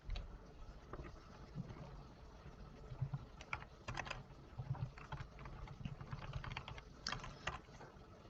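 Steady typing on a computer keyboard, with quick key taps and short bursts of ctrl-C and ctrl-V presses, heard close and alone at a moderate level.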